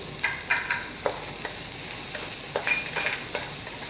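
Salted fish frying in a little oil with minced ginger over moderate heat, a steady soft sizzle broken by several sharp crackles and spatters, close and alone without talk.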